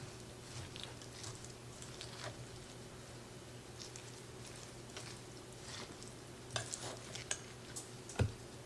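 Dried dill stirred into a pickled egg mixture: soft, quiet scraping and patter with a few sharper clicks and taps toward the end, no voices.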